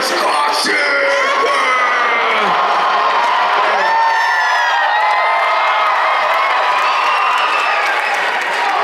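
A lively crowd at a Walking Dead fan Q&A event in Atlanta cheers, whoops and yells continuously, with shrill excited voices and scattered clapping filling the room at close range.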